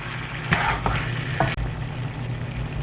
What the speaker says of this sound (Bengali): মাটনটাকে সব কিছুর সাথে খুব ভালো করে মিশিয়ে আমরা মিডিয়াম হাই ফ্লেমে এই মাটনটাকে 9-10 মিনিট ধরে ভালো করে কষিয়ে নেব।